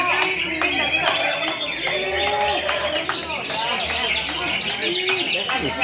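Caged songbirds sing at a bird singing contest in Nganjuk, with repeated bright chirps and trilled calls overlapping close by, mixed with crowd murmur and voices talking.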